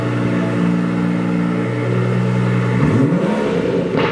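A 2019 BMW M240i with a downpipe and tune idles close by with a deep, steady drone, then its engine note shifts and rises near the end in a brief rev, with no talking.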